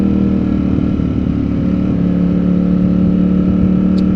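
A 2022 Ducati Streetfighter V4S engine drones steadily nearby, its exhaust giving a deep, continuous rumble at a constant idle-like pace.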